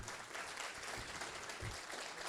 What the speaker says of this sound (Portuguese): Um salve de palmas para o Pablo